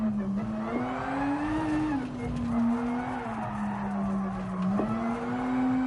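A safety car skids in Gran Turismo Sport, its engine droning steadily with tire squeal rising and falling over several seconds, close and fairly loud with no talk.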